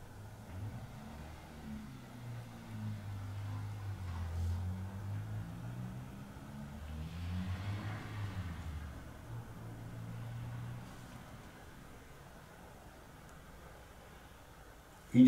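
A car engine hums and revs in low, wavering surges, fairly faint and distant under steady background noise, ending with a sharp click.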